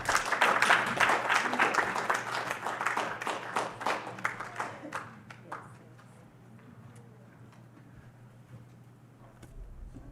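Audience applause at a closing ceremony, a strong burst of many hands clapping that thins into scattered claps and fades away, with a voice speaking over the start.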